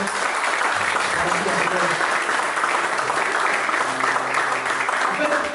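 Applause from a church congregation during a morning service, a steady dense wash of clapping filling the room, with a voice briefly speaking over it.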